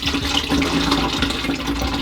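Used color film developing chemical, a blix solution, poured from a container through a funnel into a sink, giving a steady close splashing, gurgling liquid flow that lasts the whole two seconds.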